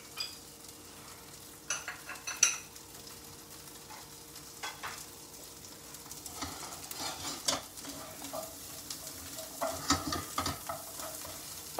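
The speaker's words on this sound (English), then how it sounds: "Stir fry has to be on high flame." Vegetables stir-fried in Amul butter over a high flame, a steady close sizzle with intermittent scraping and stirring strokes of a utensil in the pan.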